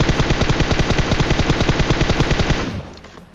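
Rapid, continuous automatic gunfire rattles loudly in a battle royale shooter match for about two and a half seconds, then cuts off into a short fading tail.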